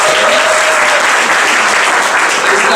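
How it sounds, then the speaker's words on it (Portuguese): A church congregation applauds loudly and steadily throughout, a dense wall of clapping with no pauses. "Aplauda Jesus pela vida dele."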